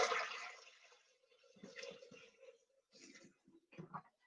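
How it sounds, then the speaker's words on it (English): Water poured into a Thermomix TM6 bowl for cleaning, a brief splashing rush at first, then quieter trickles and drips, faint and close. "So I'm just going to put in some water."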